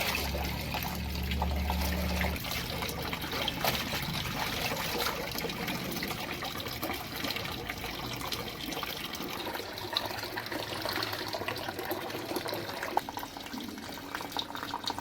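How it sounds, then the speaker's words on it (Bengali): Tap water runs steadily while clothes are hand-washed at home, a continuous trickling and splashing wash held at an even level for the whole stretch, with no voices. "এখন জলের আওয়াজ শুনবে call call call call call call call"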